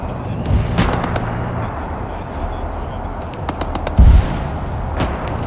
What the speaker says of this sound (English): Some kind of cannon fire to the south